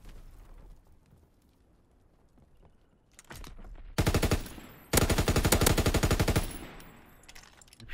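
Gunfire in Call of Duty: WWII hardcore Search and Destroy: after a quiet stretch, sharp bursts of rapid automatic fire erupt close by, then break off, with a final brief burst trailing at the end.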